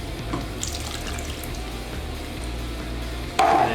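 Milk pouring into a cup while making a beer pudding, a steady close stream of liquid that runs evenly and ends with a louder splash at the finish, with no talking.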